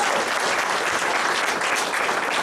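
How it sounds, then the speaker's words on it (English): A crowd at a political fundraiser applauds steadily, a thick continuous wash of clapping close and loud for the whole stretch with no talk over it. "Give him a round of applause."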